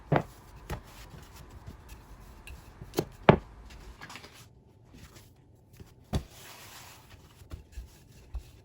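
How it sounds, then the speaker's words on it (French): A round cookie cutter, roughly 10 cm across, is pressed through rolled chocolate-vanilla brioche dough, giving a few soft, scattered taps and thuds close by with quiet gaps between them and no talking. "avec un emporte-pièce, on va le découper"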